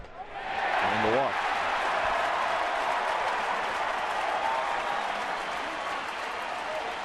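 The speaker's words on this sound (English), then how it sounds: "That's the loudest cheer for a walk I've heard in a long time" Home crowd at a Braves–Giants baseball game in San Francisco roars and applauds after a walk, a loud sustained wall of cheering that swells in the first second and holds steady, with a brief whistle near the start.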